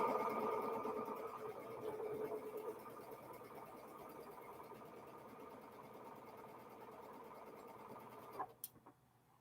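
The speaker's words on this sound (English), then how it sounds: "when I am doing these leader enders, I'm actually sewing on the short side of my half square triangle" Sewing machine stitching half square triangle quilt pieces, a fast steady mechanical hum and rattle close by that fades slightly, then stops with a few clicks near the end.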